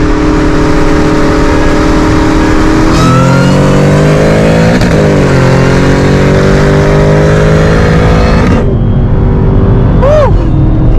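A Dodge Hellcat and a pulley-upgraded supercharged Terminator Mustang Cobra race after a car meet, engines roaring loud and sustained through several gear shifts, each shift a sharp break in pitch, before fading away.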